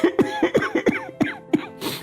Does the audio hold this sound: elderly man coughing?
yes